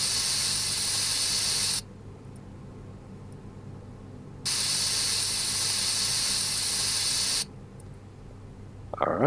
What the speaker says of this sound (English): Lubricating spray.